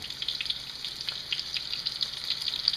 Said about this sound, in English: now we're just going to throw these in the fry pan